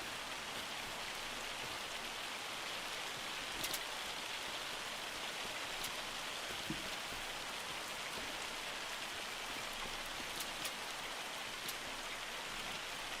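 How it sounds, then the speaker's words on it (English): Hail in the game Farming Simulator 25 patters steadily across a surface as a dense, continuous hiss of tiny impacts with occasional sharper ticks, even and unbroken throughout with no voices. "the hail sound of this game is almost spot on"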